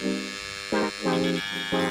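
A small engraving machine switched on and tested in short bursts, giving a harmonic electric buzz that starts and stops several times, close and fairly loud.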